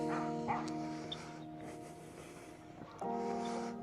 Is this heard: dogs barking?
yes